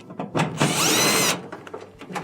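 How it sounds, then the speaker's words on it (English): A power driver whirs briefly to remove screws from the blower housing of a Whirlpool dryer, a loud burst of under a second framed by clicks and metallic handling noises. "you want to take your blower housing, remove the screws for that."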